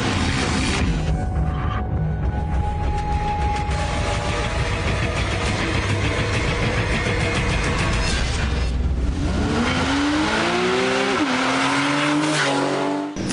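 A Porsche 911 S Carrera drives hard with a loud continuous engine roar as tires squeal and skid through corners, then the revs climb sharply in repeated rising sweeps near the end.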